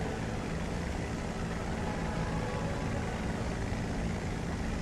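A Hawker Hurricane's propeller engine in the flight game War Thunder gives a steady, unbroken drone with broadband rumble, continuous and moderately quiet, with no talk.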